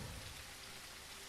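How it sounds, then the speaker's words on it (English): Steady rain in the video game Leaf Blower Co., a soft continuous hiss of drops falling on surfaces, quiet and even throughout with no talk. "Uh-oh, it's raining."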